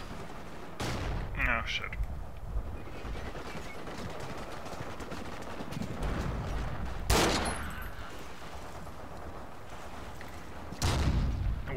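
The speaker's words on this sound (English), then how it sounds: "MG42 in this house." MG42 machine gun fire from inside a house in Forgotten Hope 2, with loud broadband bursts around one, seven and eleven seconds over a continuous gunfire din, and a voice reacting briefly.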